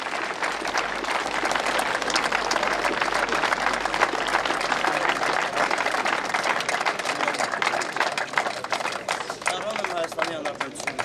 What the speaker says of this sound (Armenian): Եկեք ծափահարեք այս